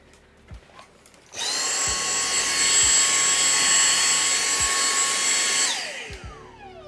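A small handheld vacuum cleaner switches on with a sharp rise to a steady, loud whining motor drone that holds for several seconds, then winds down, with faint clicks and handling noises around it.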